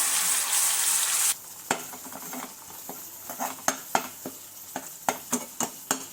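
Ginger-garlic paste sizzles loudly in a hot kadhai for a moment, then the hiss drops to a low crackle under sharp scrapes and taps of a spoon stirring.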